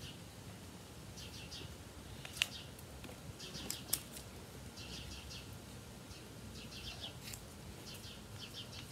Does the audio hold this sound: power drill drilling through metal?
no